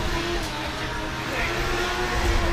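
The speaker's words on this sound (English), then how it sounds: "So Carl Farrar warms up the tyres on the back of this 1JZ powered Mazda RX-8" A 1JZ-powered Mazda RX-8 drift car warms its rear tyres at a drift championship, a steady engine drone held at high revs throughout, heard at a distance with a commentator talking over it.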